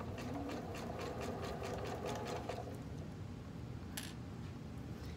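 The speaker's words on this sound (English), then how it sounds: "we're sewing right against that folded edge of the fabric." Sewing machine zigzag stitching lingerie elastic onto fabric, a steady fast mechanical rattle of needle strokes running for a few seconds, then stopping with a faint click, close and with no talk.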